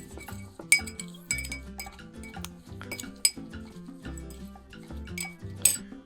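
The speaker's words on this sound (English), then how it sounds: "Give a little bit, just a quick stir again." A spoon stirs a virgin mojito in a glass, giving a quick series of bright clinks and taps against the glass, close and fairly soft, with no talking.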